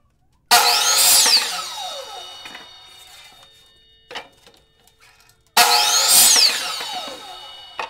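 A power saw cuts wood pieces to length in two loud bursts, each a sharp whine that spins up, bites through the board and fades, with a small clunk between them.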